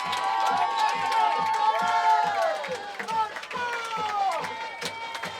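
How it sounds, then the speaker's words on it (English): A loud high school playoff football crowd cheers as the Matanzas Pirates and Lincoln Trojans take the field for an FHSAA regional game. The dense roar of cheering mixes with shouting voices and rhythmic pulses throughout. "Pirate crowd is loud."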